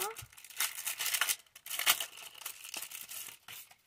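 A package ordered from Temu is unwrapped, giving close crinkling and tearing of plastic and paper packaging in irregular bursts with short pauses.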